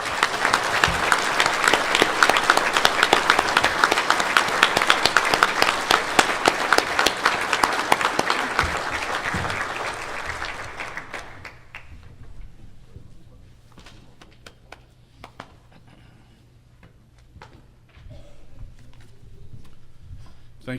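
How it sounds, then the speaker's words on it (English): At a USSSA Hall of Fame induction during the 2010 convention, an audience breaks into loud, sustained applause that fades after about ten seconds, leaving scattered claps and a quiet room. "I'd please join me in applause with introducing the newest member of the USSSA Hall of Fame"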